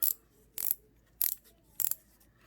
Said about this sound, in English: the spool tensioner knob clicks